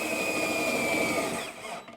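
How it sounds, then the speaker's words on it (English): A power drill drives a self-drilling screw into a snowblower impeller paddle on a Cub Cadet 3X: a steady, loud motor whine for nearly two seconds that winds down at the end. "we're just gonna start drilling"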